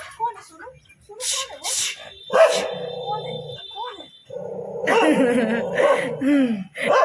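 A dog barks and yips in short bursts while a person talks and coos over it, the sounds close and overlapping.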